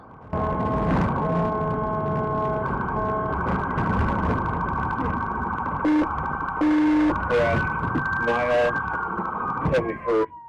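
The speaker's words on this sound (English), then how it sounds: "activated his car's overhead lights and siren" A loud police car siren blares during a police chase, with sustained electronic wailing tones broken by short yelping chirps and pauses, close by and dominating the sound.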